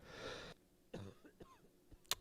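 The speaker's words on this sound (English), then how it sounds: "Good cough, by the way." A person gives a single rough, hacking cough with some throat clearing, close to the microphone and fairly quiet, followed by a few small breathy sounds and a sharp click.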